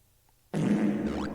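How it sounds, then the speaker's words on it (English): A loud fart sound effect in a video game bursts in after a brief near-silence and holds as a sustained, buzzy, close rasp with a slight rising tone near the end. "the fart sound effect is so loud"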